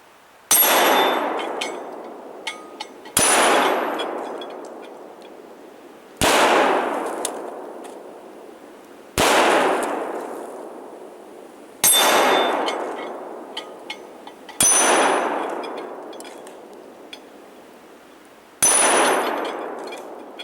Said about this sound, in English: with this 1894, I'm just ringing that steel plate, 12-incher at 50 yards